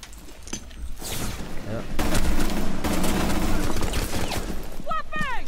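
Sustained bursts of automatic gunfire in a video game, loud and rapid, building from scattered shots to a dense continuous fusillade, with players talking over it.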